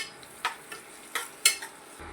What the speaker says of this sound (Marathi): तेल व बटर गरम झालेलं आहे। यात रफली चॉप कांदा घालून हलका ट्रान्सलुसंट होईस्तोपर्यंत परतून घेऊ।